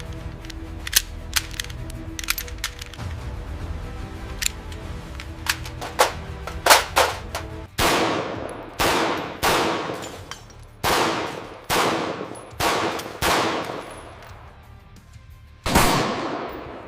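Glock polymer-frame pistol fired during a factory live-fire accuracy test, a sequence of sharp reports, scattered at first and then a steady run of loud, evenly spaced shots with ringing decay.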